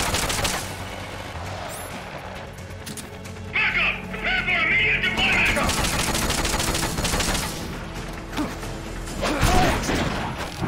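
Gunfire from the Metal Gear Solid: Peace Walker video game, dense bursts of shots and crashing impacts running steadily through most of the stretch, with short quieter gaps and a chirping game effect in the middle.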